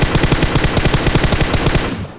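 Rapid automatic gunfire from PUBG on the Sanhok map, a steady burst of loud, evenly spaced shots running for about two seconds before cutting off.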